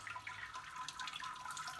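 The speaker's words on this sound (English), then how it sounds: "I've just added about 2 liters of water, so that's draining its way through, making its way through the grain bed" Water poured onto a grain bed during an all-grain NEIPA mash, a steady close trickle and splash of liquid draining through the malt, continuous and fairly even with no talking.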